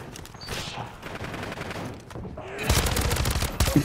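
Buffed SMG gunfire in MW3 Zombies, with rapid automatic bursts in two stretches that swell into a loud, dense volley near the end and rattle over game effects.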